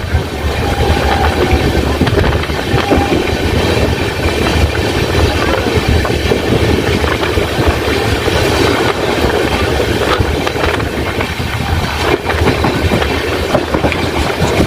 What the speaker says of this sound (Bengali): আমাদের ট্রেন ক্রস করছে হাজিগড়।